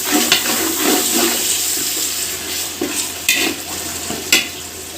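Chicken biryani with lemon water in a large pot for about fifty people is stirred, giving a continuous wet sizzle with occasional scraping and clanking strokes from the spoon, with nobody talking.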